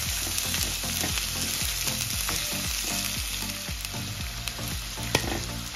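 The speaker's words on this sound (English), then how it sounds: "my carrot is going in there now. Combine this together and fry for about" Carrots fry and get stirred in a pan, a steady loud sizzle broken by repeated scraping stirs throughout, close up with no talking.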